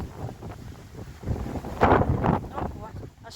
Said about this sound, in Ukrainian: Ого, аж підганяє мене вітер.